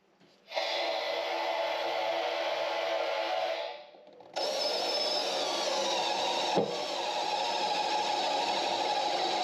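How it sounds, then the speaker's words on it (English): A jigsaw saws through a thin aluminum tank aboard a sailing boat, a loud steady buzzing rasp that runs, pauses briefly, then resumes at full strength with one sharp knock along the way. "we're going to cut around it with a saw because it's just aluminum. So with a jigsaw, it should be pretty easy"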